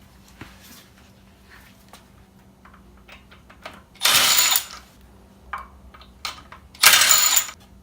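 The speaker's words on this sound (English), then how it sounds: "I'm going to use my Milwaukee impact driver to take" A Milwaukee impact driver rattles loose car wheel lug bolts, two loud hammering bursts of about half a second and a second, separated by quieter clicks and handling sounds nearby.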